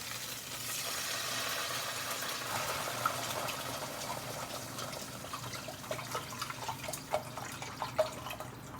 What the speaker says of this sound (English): going to pour some veggie broth in